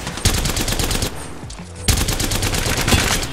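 Rapid automatic gunfire in the video game Apex Legends crackles loudly and close, in two dense bursts of fast shots broken by a short pause.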